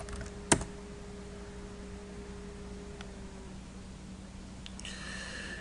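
A few keystrokes on a computer keyboard: one sharp click, then scattered quieter taps, faint over a low steady room hum.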